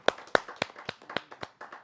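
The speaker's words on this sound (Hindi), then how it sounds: "जोरदार ताली के साथ" Audience clapping at a Hindi poetry gathering: about eight sharp, separate claps over two seconds, close and fairly loud, with no talk.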